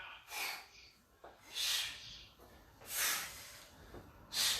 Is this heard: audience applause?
no